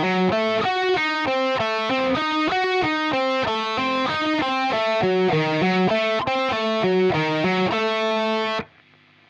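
A fast distorted electric guitar diminished lick from a solo, in quick triplet runs of notes, loud and continuous, ending abruptly with a brief fade.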